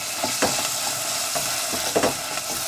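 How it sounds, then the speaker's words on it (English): Ground beef and split peas sautéing in a pan for Persian khoresh gheymeh: a steady close sizzle broken by several scraping stirs, with no voices. "I'm going to saute this for a couple more minutes."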